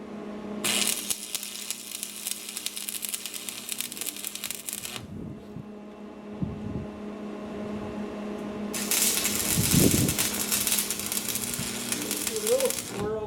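Welding sizzle on the steel of a utility trailer being restored: a steady crackling hiss runs for several seconds, drops out, then returns, close and moderately loud, with some handling clatter in the gap.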